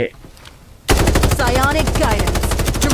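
Rapid automatic gunfire in the video game Farlight 84, a loud, dense stream of shots that starts abruptly after a quiet second and rattles on steadily, with a voice faintly beneath.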